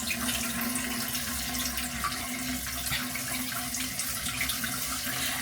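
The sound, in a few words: water running to wet hair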